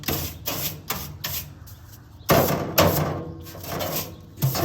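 The metal grease trough from a Traeger WoodRidge pellet smoker is shaken off, producing a series of sharp clanks and rattling knocks in irregular bursts, some louder than others, close by.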